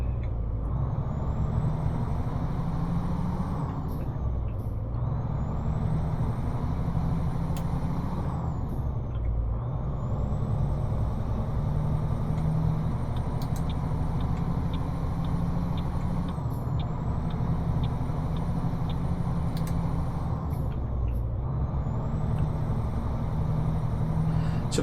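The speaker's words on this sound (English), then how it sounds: "the Jake brake doesn't sound very loud from the outside" A Freightliner FLB truck's Jake brake in American Truck Simulator, heard from outside as a steady, fairly subdued diesel rumble that sags and recovers every few seconds as the revs drop, with no talking.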